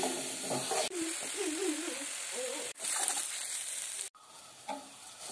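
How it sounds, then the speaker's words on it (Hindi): Masala frying in a pan for a jackfruit flower kofta curry, giving a steady close sizzle and hiss with a few stirring scrapes and brief breaks. "और इसको हम तब तक भूनते रहेंगे जब तक इसमें से तेल निकलना शुरू नहीं हो जाता।"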